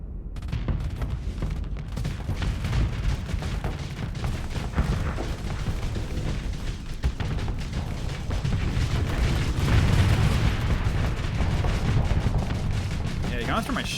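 Missile launches and explosions rumble in the space combat game Starsector, a dense, continuous barrage of booms and blasts at high volume with scattered sharper hits throughout.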